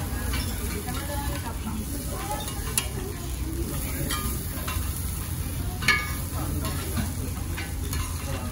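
Bean sprouts (moyashi) frying in butter on a griddle, a steady close sizzle with scraping and stirring clicks throughout, low background rumble beneath.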